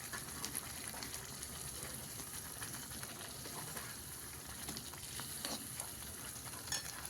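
Eggs stirred into Kolhapuri masala frying in a pan give a continuous crackling sizzle with uneven scraping and bubbling pops from the stirring, fairly soft and steady throughout with no voices.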